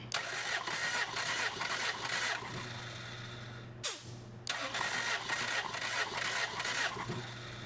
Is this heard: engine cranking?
yes